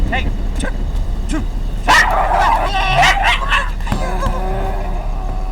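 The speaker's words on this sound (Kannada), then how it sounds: "ಯಾವ ಸೀಮೆ ನಾಯಿ ಮರಿ ಅದು? ಕಚ್ಚೋಕೆ ಬರುತ್ತಲ್ರಿ?" A small dog yips and barks in short bursts, close by, with people talking around it and a constant low hum underneath.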